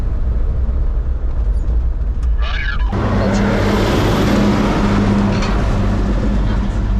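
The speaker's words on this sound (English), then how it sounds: "Hey, we got a logging truck coming." A logging truck on a forest road in British Columbia rumbles in from near silence, its broadband roar swelling suddenly and staying loud and close as it passes.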